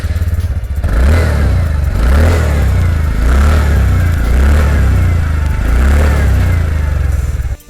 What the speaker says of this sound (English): along with this bassy sporty exhaust note